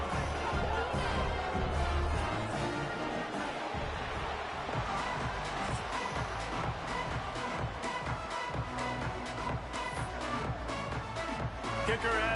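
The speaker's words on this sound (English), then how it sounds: "A great crowd getting revved up and anxious for kickoff in this one" Dense stadium crowd at the Glass Bowl in Toledo buzzing before a football kickoff, a steady broad roar of many voices with scattered shouts and cheers throughout.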